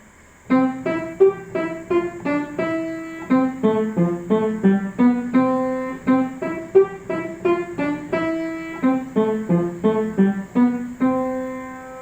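Bouncy, staccato melody of quick plucked-sounding notes leaping up and down in a steady skipping rhythm, mimicking a frog hopping.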